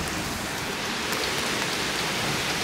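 Heavy rain pours steadily outside in Toronto, a dense, even hiss of drops hitting surfaces, close and continuous with no voices.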